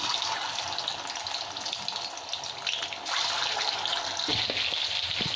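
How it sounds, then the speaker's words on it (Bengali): Eggs rubbed with salt and turmeric fry in hot oil in a home kitchen, making a steady close sizzle that swells midway, with a few clinks and scrapes of stirring near the end. "এবার আমি এই তেলের মধ্যে ডিমগুলো ভেজে নেব"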